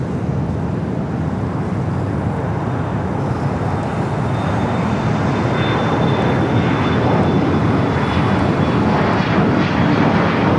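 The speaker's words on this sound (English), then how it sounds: "EVA Flight 16 coming in from Taipei. 777-300ER." An EVA Air Boeing 777-300ER jet arriving from Taipei at Los Angeles airport at night, a steady, loud broadband engine roar holding throughout with a faint high whine above it, no talk.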